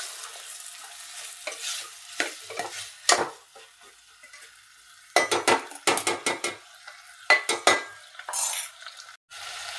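Marinated mutton frying in a pan for Kolhapuri mutton is stirred in bursts of quick, close spatula scrapes and clinks against the pan, over a continuous sizzling hiss, with no talk.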